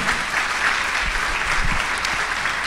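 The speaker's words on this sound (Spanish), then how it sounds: "Le damos un fuerte aplauso al Señor" A large church congregation applauds steadily, a dense, continuous wash of clapping that holds at the same strong level throughout.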